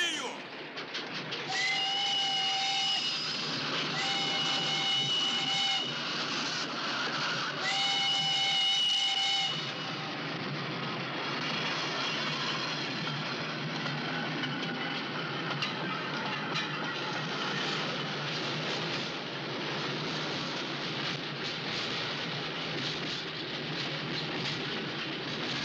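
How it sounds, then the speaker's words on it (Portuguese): A steam train arriving, its whistle sounding in three loud blasts before giving way to a long rumble and hiss of the moving train, with voices talking briefly. "Eu não quero interromper, mas bem-vindo um trem aí, hein?"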